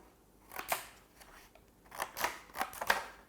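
Scissors snipping through a paper-texture screen protector film peeled from an 11-inch iPad Pro, a few crisp, irregular cuts at close range with quiet pauses between them.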